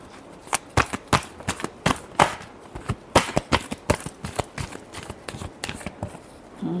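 Tarot cards are shuffled by hand in a rapid series of crisp slaps and riffles, close and distinct, in an uneven rhythm that continues throughout.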